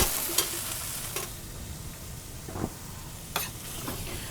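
Sauce poured into a hot pan of wilted mushrooms for baked mushroom parm sandwiches, hissing in a steady sizzle with a few sharp scrapes and clinks of stirring, close and moderately loud, no talking.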